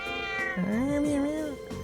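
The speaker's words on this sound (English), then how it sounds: "Crow started playing with the cat." A cat in the video game Trails of Cold Steel gives one drawn-out, wavering meow, close and clear, ending in a short sharp sound.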